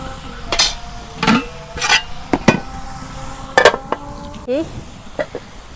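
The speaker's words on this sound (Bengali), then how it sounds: "এখন ডাইকা দিই।" A lid goes onto a cooking pot of river-fish curry with red radish in a rural Bengali kitchen, making several sharp metallic clinks and brief scrapes close by, spaced irregularly over a quiet background.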